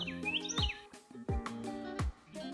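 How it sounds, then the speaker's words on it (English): Birds chirp in the woods along a hiking trail, several bright close calls and tweets in quick succession, clear and alone without talk. "Hello, birds."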